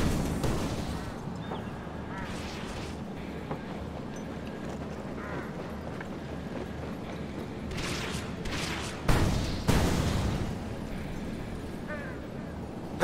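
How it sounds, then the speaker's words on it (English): A missile launcher volley from the GDI side in Command & Conquer 3: Tiberium Wars at the White House, with battle noise rumbling under voices, then a cluster of loud, sharp launch blasts near the end. "Volley fire!"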